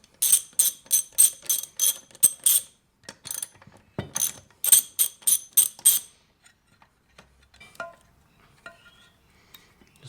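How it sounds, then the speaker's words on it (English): A 12mm socket on a ratchet clicks rapidly in two quick runs of sharp, close ticks while undoing the ignition coil on a VICTA two-stroke lawn mower, followed by quieter scattered handling clatter. "To do that, we've got a 12mm socket here."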